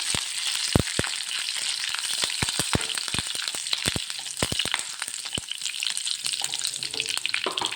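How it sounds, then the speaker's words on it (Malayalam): Hot oil sizzling steadily with many sharp, scattered pops and crackles of mustard seeds bursting, with curry leaves added, close and continuous. "കടുക് പൊട്ടി തീരാറായിട്ടുണ്ട് അത് നമുക്ക് അതിനകത്തേക്ക് കരിവേപ്പില ഇട്ട് കൊടുക്കാം"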